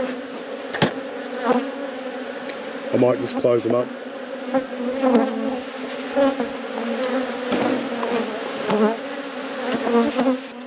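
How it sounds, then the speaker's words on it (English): Honey bees buzzing steadily and close by during a hive inspection, a dense droning hum with occasional bumps, while a person briefly speaks over it. "Ooh, lots of bees."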